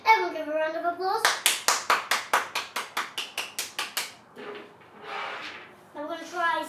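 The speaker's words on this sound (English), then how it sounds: "Everyone give a round of applause." Applause from a single person clapping during a child's dinosaur toy review, about a dozen sharp, evenly spaced claps that fade slightly, framed by a voice before and after.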